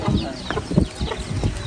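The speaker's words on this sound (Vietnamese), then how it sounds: "Con gà" A farm chicken clucks in short, uneven bursts during a chase to catch it at a Khmer Lunar New Year gathering in Soc Trang, close and moderately loud over a busy outdoor background.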